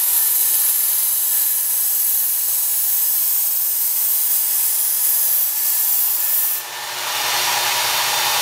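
A Work Sharp Ken Onion Edition variable-speed belt sharpener grinds a very dull knife with a steady, bright abrasive hiss, close and continuous, briefly dipping near the end.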